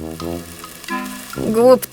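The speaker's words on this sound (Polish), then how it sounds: "Parówki trzeba smażyć?" Sausages frying in a pan for hot dogs give a loud, close sizzle with crackling bursts, while voices talk over the frying.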